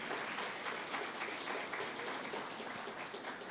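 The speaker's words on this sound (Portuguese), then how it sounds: "Você pode aplaudir ao Senhor por essa palavra" A large church congregation claps steadily, a dense wash of applause that stays even and loud from start to finish.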